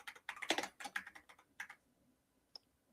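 Fingers type a short burst of quick, close keystrokes on a computer keyboard, then slow to a few scattered taps and fall silent.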